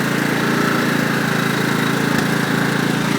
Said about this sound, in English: There's your lawnmower, Andrew.